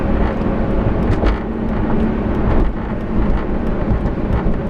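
A 2005 Chrysler Crossfire with its V6 engine drives along, a steady low-pitched engine drone and road rumble filling the cabin continuously, with faint rattles over the top.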